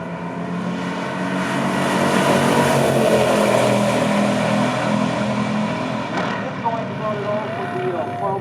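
A 1969 Dodge Super Bee and a 1970 Oldsmobile F85 roar down a stock drag strip, a loud sustained engine blare that swells and slowly eases, with talk layered over it.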